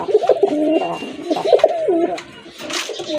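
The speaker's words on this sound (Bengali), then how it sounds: "আরেক জোড়া কবুতর আকাশি কালারের ভিতরে, এটা অবশ্য মাথায় ঝুটি আছে" Pigeons, including crested birds, cooing close by at a market, several rolling low coos repeating in quick succession with faint background noise.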